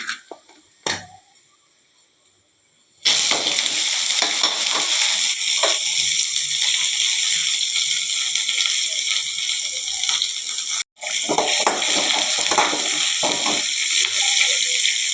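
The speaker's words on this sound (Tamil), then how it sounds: "கடுகு போட்டுக்கலாம் கடலப்பருப்பு போட்டுக்கலாம்" Mustard seeds and chana dal frying in hot oil for a Tamil ridge gourd poriyal, a steady loud sizzle with crackling pops that starts abruptly after a few quiet seconds and briefly cuts out near the end.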